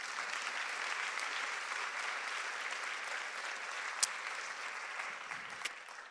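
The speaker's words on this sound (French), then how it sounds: "On peut applaudir toute l'équipe organisatrice." Steady applause from a seated audience at a French conference workshop on listening, a dense, even patter of many hands lasting several seconds, fairly soft and distant, with a couple of sharper claps near the end.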